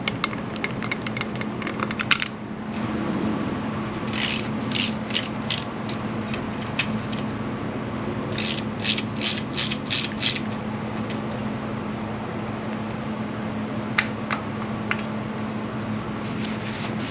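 Pulley puller tool at work, ratchet clicks in quick bursts and clusters over a constant low mechanical hum, with handling clunks between bursts and no talking.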